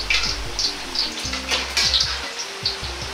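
Peanuts deep-frying in a pot of hot oil for black fried rice, a steady bubbling sizzle with occasional stirring clinks and scrapes, close and continuous with no talking.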